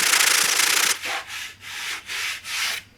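A block sands a fiberglass-repaired plastic bumper panel, first in one long continuous rasp, then in four rhythmic back-and-forth strokes, close and alone.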